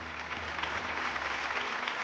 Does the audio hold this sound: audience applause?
yes